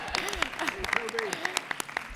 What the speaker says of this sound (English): Everyone deserves a clap